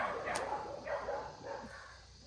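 Several dogs on an off-grid farm in Costa Rica bark and yip in the background, fairly faint and distant, mixed with general outdoor noise.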